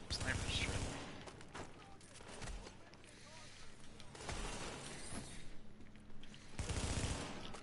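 Sniper gunfire in a video game, heard as sharp loud shots and bursts spread over a few seconds amid busy game noise, with a voice talking over it.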